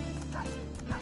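A brief, muffled dog bark from Persona 5 Royal, faint and partly buried in a dense wash of background game noise.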